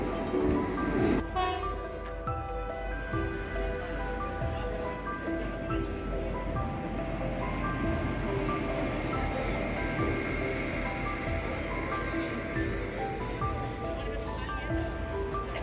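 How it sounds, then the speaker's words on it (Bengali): A train pulls into Bandel station, sounding a horn with sustained tonal blasts over a steady rumble of wheels and platform bustle, with faint voices in the background. "এখন আমাদের পান্ডুয়া যাওয়ার ট্রেন চলে"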